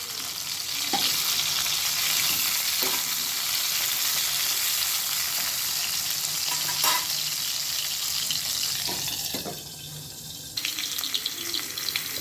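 Tomatoes and garlic fry in a pan for tomato chutney, a steady close sizzle running throughout, with a few sharp scraping knocks as the pieces are turned and a brief quieter dip near the end.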